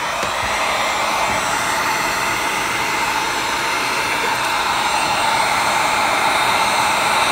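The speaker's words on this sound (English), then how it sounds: "And then turn your heat gun on." A heat gun blowing hot air onto cosplay foam, a loud, steady close-up whooshing roar that holds unbroken throughout, with no talking.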